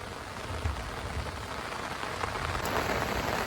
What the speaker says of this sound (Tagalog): Ayan, malakas na ang ulan.